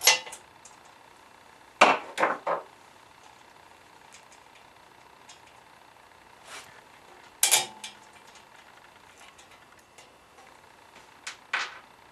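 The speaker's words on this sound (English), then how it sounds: "Using the tubing cutter provided, cut out the section previously marked." A tubing cutter snips through a section of fuel tube in a few sharp, separate clicks and crunches spaced across quiet pauses, close and clear with no talking.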